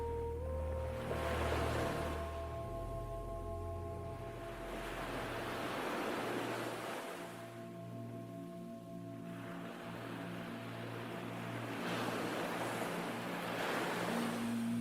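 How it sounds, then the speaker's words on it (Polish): Ocean waves roll in and wash out in slow, rhythmic surges, with a soft low musical drone playing underneath. "Fale podchodzą bliżej"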